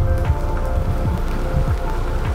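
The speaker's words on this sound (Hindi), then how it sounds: "बारिश हो रही है बहुत ज्यादा बढ़ गई अब तो" Heavy monsoon rain pours at Tirathgarh waterfall in Bastar, Chhattisgarh, a dense continuous patter of drops striking nearby surfaces over a low steady roar.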